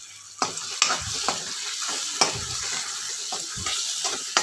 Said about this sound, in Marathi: तेल पण छान फुटले